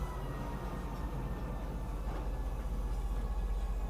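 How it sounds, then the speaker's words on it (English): A Star Citizen train pulls into Tisa Spaceport with a low rumbling drone and a faint rhythmic clatter beneath a steady hum, quiet and continuous for a few seconds. "Now arriving, Tisa Spaceport. Please watch your step when disembarking the train."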